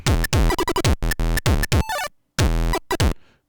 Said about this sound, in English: so those arpeggio zaps, he's using those